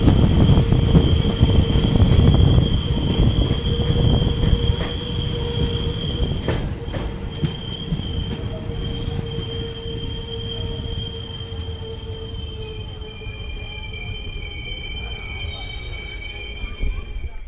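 Maa Tara Express train rolling into Sainthia Junction, with loud wheel rumble and metallic squeal from the rails. The sound is strongest early on and eases off as the train slows, and no one speaks.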